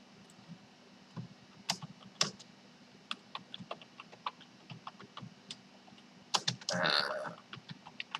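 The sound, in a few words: typing a headline on a computer keyboard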